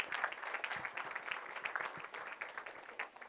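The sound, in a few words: applause for Nancy McCormick at business breakfast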